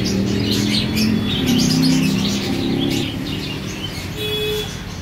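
Several varieties of birds chirp and tweet continuously at a pet shop, with cooing mixed into a loud, dense background hum, all fairly close and steady.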